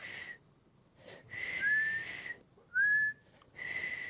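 A person whistles several sustained tones in separate phrases, with a rising slide partway through and brief quiet gaps between them.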